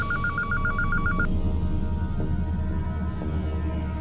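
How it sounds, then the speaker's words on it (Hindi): A telephone rings with a rapid warbling electronic trill for about a second, then cuts off, leaving a low hum and background tone. "उस दिन मुझे उसका फोन आया था।"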